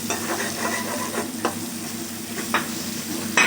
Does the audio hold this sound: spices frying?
yes